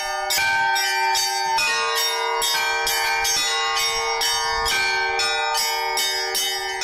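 Church bells donated from Tutaev ring out together, repeated clanging strikes in an irregular, lively peal with long ringing tones, loud and close with no voices.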